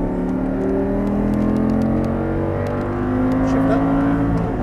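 An Audi R8 engine accelerates at full throttle on a track, its rising whirring harmonics climbing steadily and loudly throughout, with faint clicks above.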